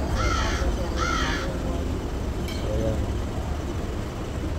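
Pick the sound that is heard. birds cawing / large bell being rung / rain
birds cawing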